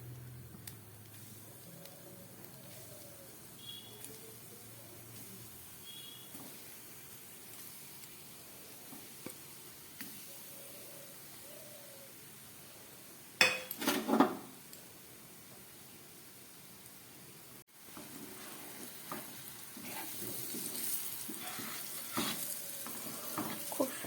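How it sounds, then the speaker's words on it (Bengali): Potato koftas frying in oil over a low gas flame, a soft steady sizzle with occasional stirring clatter and brief louder bursts. "এবার এই তেলের মধ্যে আমি আলুর কোপ্তাগুলো ভেজে নেব।"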